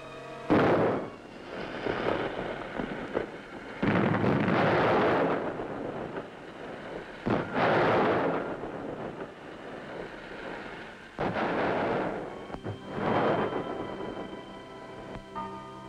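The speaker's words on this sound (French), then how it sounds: "Peu à peu, le souffle des explosions désagrège ces maisons depuis longtemps abandonnées." Explosions tear apart long-abandoned houses in a mountaintop village, a series of deep booming blasts each followed by a rumbling decay, spaced a few seconds apart and heard from some distance.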